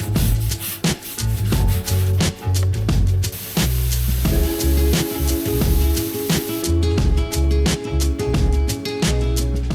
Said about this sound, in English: You can spray it straight onto the surface, or you can put it in a foam cannon and then just spray it around like we're doing now